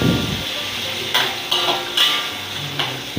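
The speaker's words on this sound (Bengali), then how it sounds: "এগুলোকে সুন্দর করে নেড়ে চেড়ে আমি কিছুক্ষণ ভেজে নিব তেলে।" Apple slices fry in hot oil with a steady close sizzling hiss, broken by a few scraping stirs at irregular intervals.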